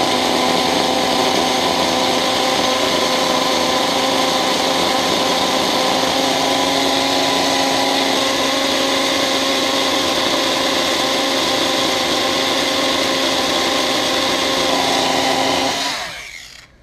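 A Tomy Turbo SRT slot car whirs loudly and steadily at high pitch, a constant buzzing drone close by that stops abruptly near the end.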